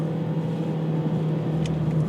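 A 2019 Ford Escape SEL's 1.5-litre engine hums steadily at cruising speed with road rumble, heard from inside the moving car.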